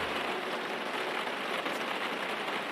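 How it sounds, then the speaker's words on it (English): Heavy rain in the racing game Project Cars 2 makes a steady, loud hiss that fills the whole stretch evenly, with no talking. "And it's raining pretty heavy."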